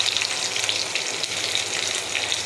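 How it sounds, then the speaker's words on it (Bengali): Onion, garlic and green chili fry in hot oil in a wok for a Bangladeshi dried fish bhuna, giving a loud, steady sizzle with crackling pops throughout and no talking. "এটাকে একটু ভেজে নিব।"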